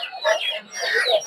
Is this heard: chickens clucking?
yes